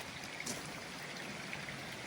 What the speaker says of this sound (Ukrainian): релаксує сиди, слухає шум води